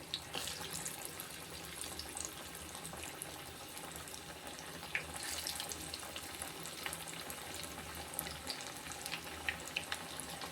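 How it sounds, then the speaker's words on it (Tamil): Banana flower vada sizzles in hot oil with a steady, fairly quiet crackle and bubbling, punctuated by a few sharper pops. "ஓரளவு சூடு வந்த உடனே நம்ம தட்டி வச்சுருக்கிற வடையை போட்டுருவோம்."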